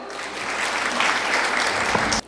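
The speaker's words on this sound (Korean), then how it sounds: "여러분 큰 박수로 무대 위로 모실게요" Dense, loud audience applause at a Korean women's football awards ceremony, a continuous roar of clapping that holds for about two seconds before cutting off abruptly.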